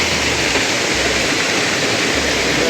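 The Dhodhani waterfall near Panvel crashes down with great force. It makes a dense, loud, unbroken roar that fills the scene close by, with no voices.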